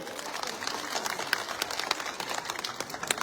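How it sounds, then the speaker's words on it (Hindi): An audience at an outdoor political rally applauds, a rapid, dense patter of many hands clapping at a distance, steady and moderately loud throughout. "यहाँ की जनता के लिए एक बार जोर से ताली बजा दीजिए"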